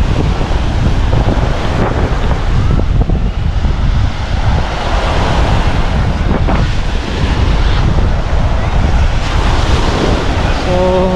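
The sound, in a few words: ocean waves at the beach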